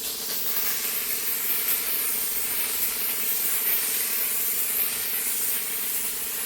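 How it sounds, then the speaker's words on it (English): A steam cleaner hisses continuously against a granite countertop, a steady close spray of high airy hiss with slight fluctuations and no pauses or voices. "So I'm steaming it,"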